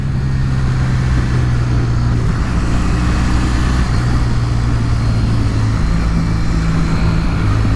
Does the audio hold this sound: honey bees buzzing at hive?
no